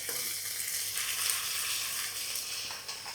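Pork pieces for an Angamaly-style fry sizzling in a pan, a soft, steady hiss with light stirring movement, fairly quiet and without talking.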